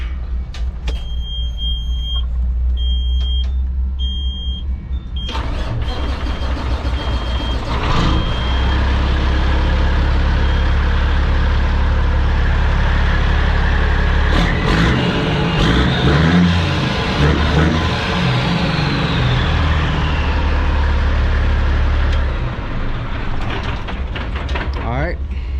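A truck's engine runs after a fuel filter change, a steady low diesel rumble lasting throughout, with a brief high beeping early on, some mechanical clunks midway and someone talking over it.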